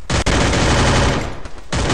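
Dense, rapid automatic gunfire from a video game, loud and continuous, with a brief break near the end before the shooting resumes.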